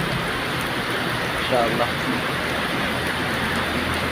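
Heavy rain falls on a highway in a steady, dense hiss that fills the whole stretch, with a brief spoken word near the middle.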